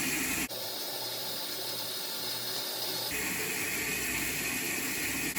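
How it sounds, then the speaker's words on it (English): Water from a cold tap runs through a hose into a 100-gallon guppy tank as a steady hiss and rush, with the tone shifting abruptly partway through as the flow changes. "And now you actually can see the water coming down here."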